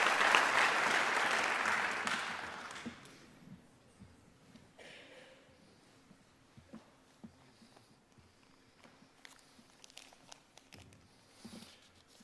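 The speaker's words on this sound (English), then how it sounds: "Please give them another round of applause." A seated audience at a senior scholarship ceremony gives a strong round of applause that swells, then fades over about three seconds into a quiet room with scattered small knocks and shuffles.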